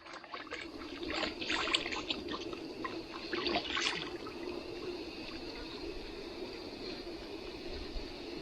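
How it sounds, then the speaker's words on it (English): Creek water trickles and babbles continuously in a forest, with a few brighter splashy bursts early on before settling into a gentle, steady flow. "there's still flowing water right here"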